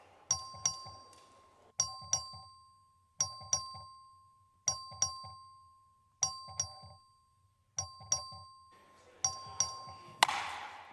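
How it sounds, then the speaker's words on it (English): A two-tone electronic chime repeats steadily about every one and a half seconds, clear and moderately faint, ringing out over a quiet room with no speech. "The clerk ring the bell."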